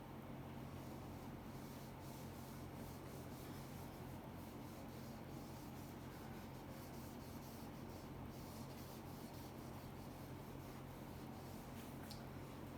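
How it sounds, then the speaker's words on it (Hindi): A steady, faint dry rubbing sound runs unbroken through a biology lesson, a soft continuous scraping texture with no talk over it. "देखो ये मैं रब कर रही हूँ"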